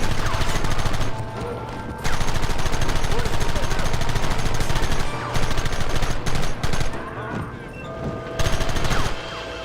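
Rapid bursts of gunfire and machine-gun volleys fill a Red Dead Redemption shootout, loud and nearly continuous with short lulls, while a voice talks over the shooting.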